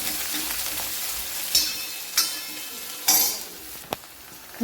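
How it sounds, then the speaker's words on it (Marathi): Coriander leaves sautéing with onions and green chillies in a pan give off a soft steady sizzle, cut by four sharp spatula scrapes at uneven intervals. The sound is close and moderately loud, with no talking. "कोथिंबीरला पण छान असं परतून घ्यायचं आहे"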